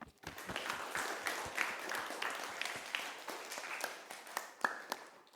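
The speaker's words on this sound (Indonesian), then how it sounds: "Kita kasih aplaus dulu untuk jawaban hari ini." A class of pupils applauds their teacher's question-and-answer lesson, a steady stretch of many small hands clapping at once, fairly close and moderately loud, with no talking over it.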